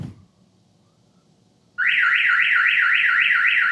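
A RAM TRX pickup's car alarm suddenly starts after near silence, blaring a loud, steady warbling siren that rises and falls in rapid repeating cycles and continues to the end.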